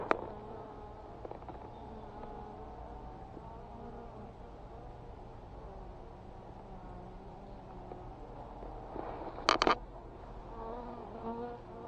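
Soft, low buzzing of sluggish honeybees hums steadily throughout, with a few faint knocks and a brief louder rustle near the end, during installation of a natural hive in a tree.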